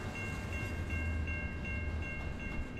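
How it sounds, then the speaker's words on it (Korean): A JR line train runs along railway tracks in the Tsuruhashi area, its low rumble steady throughout while a thin, high metallic ringing rises and fades in regular pulses, fairly close with no voices. "그 시작을 알린 것은 철길 소리였다"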